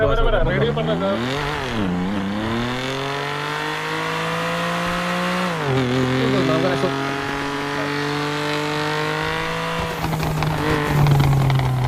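A BMW engine and exhaust from a GTA 5 sound pack rev and drone steadily, pitch climbing and dropping through gear changes, loud and continuous under intermittent talk.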